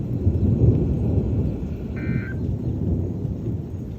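A loud, continuous low rumble of thunder rolls through an intense, windy thunderstorm, steady throughout, with a brief electronic beep partway through.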